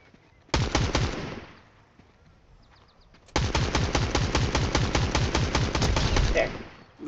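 Rapid automatic gunfire in Fortnite, a short loud burst followed after a pause by a longer sustained volley of fast, close shots.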